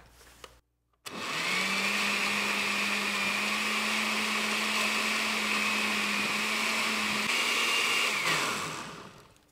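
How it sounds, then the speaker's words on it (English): A kitchen blender whirs steadily for about eight seconds, liquefying a cucumber and jalapeño paleta mix, starting abruptly after a brief pause and winding down at the end, with no talking. "I'm just going to put the lid on and blend this up"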